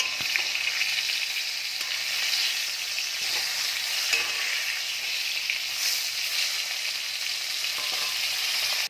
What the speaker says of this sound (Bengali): এবার মাথাটাকে ভালো করে ভেজে নেব